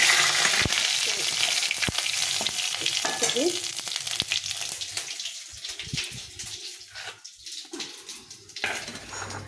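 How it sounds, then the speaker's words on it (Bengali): Bay leaf, dried red chilli and white cumin crackle in hot white oil, a loud bright sizzle with spoon clatter that gradually settles and thins out, briefly flaring again near the end. "তেলটা গরম হয়ে গেছে এখানে তেজপাতা শুকনো লঙ্কা আর জিরে সাদা জিরে নিয়েছি"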